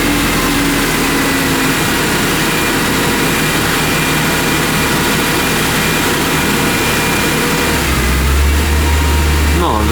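A neglected BMW E46 M3 convertible engine runs steadily at idle, a dense continuous mechanical drone with a low hum that shifts and deepens slightly near the end.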